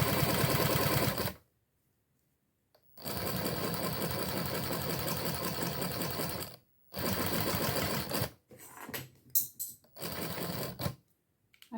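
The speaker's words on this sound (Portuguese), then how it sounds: "Tô usando o limite do pezinho da máquina aqui, como espaço para costura." Sewing machine stitching a plastic magazine folder trimmed with faux leather (courvim), running in several close, steady bursts of motor whir separated by short pauses.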